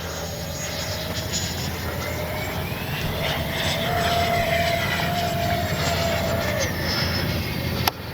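A Freewing 90mm 6S Zeus RC jet roars past at full throttle, its steady ducted-fan whine swelling and shifting in pitch as it flies by, loud and continuous against open outdoor air.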